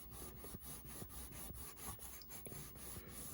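Goo Gone being rubbed by hand onto a sticky label on a Commodore PET 4040 dual floppy drive, giving a steady close scrubbing and rasping with rhythmic strokes about twice a second, no voices.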